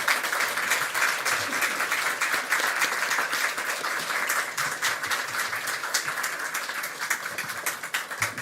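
A church congregation applauds steadily, dense clapping filling the room at even loudness throughout, with no voices over it.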